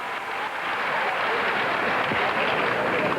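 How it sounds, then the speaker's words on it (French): Spontaneous, thunderous applause fills a hall, a dense continuous roar of clapping from a large audience, loud and unbroken throughout. "un tonnerre d'applaudissements, mais spontané dans la salle."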